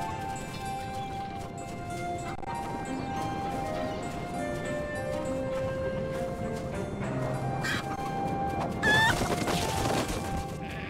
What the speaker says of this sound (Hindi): ये रही चिकेंस। एक मुर्गी पकड़ा, अरे दूसरी मुर्गी भी पकड़ना।